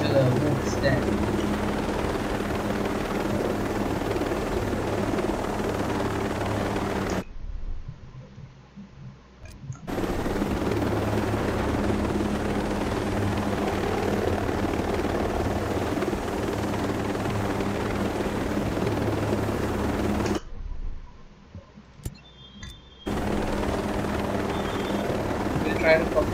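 A helicopter in Ghost Recon Breakpoint drones with a continuous, loud rotor throb, broken by two brief drops to near silence before the steady engine noise returns.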